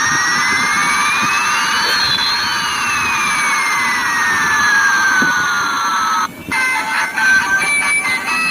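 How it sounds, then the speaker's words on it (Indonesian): A jet airplane engine roars continuously with a high whining whistle that sweeps in pitch, loud and close, then breaks into choppier bursts near the end, with no talk. "ini ada pesawat terbang teman-teman"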